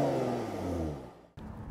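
A white 2014 Jaguar F-Type base model with 340 horsepower pulls away, its engine rumbling and rising close by, then briefly dropping off before surging again as a gear changes.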